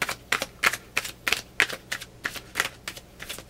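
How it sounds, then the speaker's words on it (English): A deck of tarot cards being shuffled by hand, a run of quick, crisp riffling snaps and taps in a steady uneven rhythm, close and fairly quiet, with no talking. "I'm not the greatest at shuffling"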